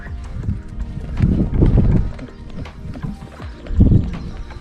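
Hooves beat steadily and close by as a horse named Star Bresil trots on a lunge line, the rhythmic thuds rising and falling in loudness.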